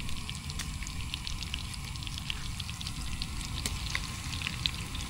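Fatty pork pieces, skin and fat, fry in their own rendered grease in a pan at a campsite, giving a steady close sizzle with scattered crackling pops and spits.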